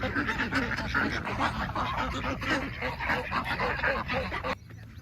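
Ducks quack repeatedly in a busy, overlapping chorus close by, with honking calls continuing steadily before briefly thinning out at the end.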